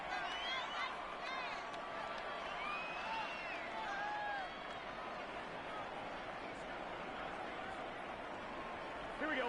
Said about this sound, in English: The crowd may be losing just a little bit of the edge after back-to-back punts.